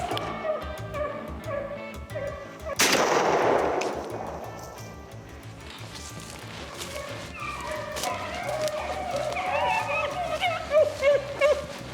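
Shotgun or rifle shot fired while rabbit hunting with dogs: a single loud, close blast with a rolling decay, followed later by hunting dogs yipping and baying excitedly.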